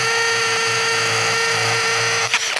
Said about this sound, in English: I'm just gonna let the drill bit do the work.